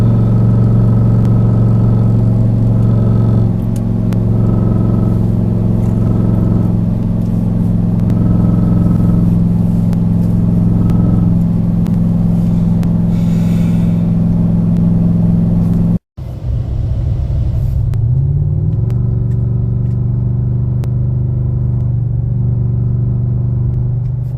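A RAM 1500 pickup towing on a long road trip, its engine running rough and labouring, a loud steady low drone and rumble throughout with a brief dropout, then a rising rev as it pulls again.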